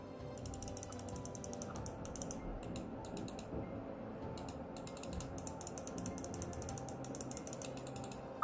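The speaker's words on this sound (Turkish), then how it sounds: "Klik sesleri normal oyuncu mouse'larından biraz daha gürültülü bir şekilde çalışıyor." Rapid, dense clicking from the buttons of a Rampage SMX-R4 macro gaming mouse, pressed over and over in close, steady bursts with brief pauses, heard alone and close up.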